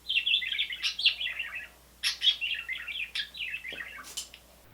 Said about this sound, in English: Here's a parakeet sound.